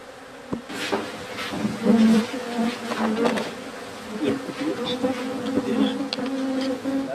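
Dense swarm of honey bees buzzes steadily around an opened hive as frames are lifted out, a loud continuous drone with occasional knocks and thumps of handling, no talking.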